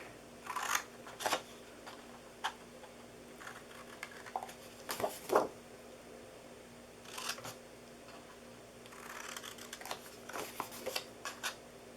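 Scissors snip off the four corners of a DIY gift box, giving soft, brief cutting clicks in small scattered clusters, faint and close, with no talk.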